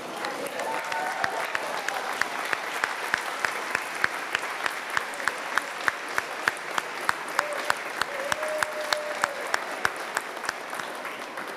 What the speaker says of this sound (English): Please turn around and give them a round of applause.